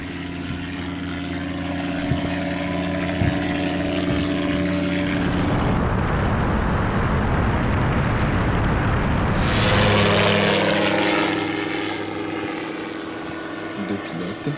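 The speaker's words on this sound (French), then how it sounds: "la direction zone nord-est de l'OIPR a acquis un ULM, un avion motorisé, pour renforcer la surveillance" A motorized ultralight aircraft flies surveillance over a national park, its engine droning loudly and continuously with a rising roar as it passes close, while a voice talks over part of it.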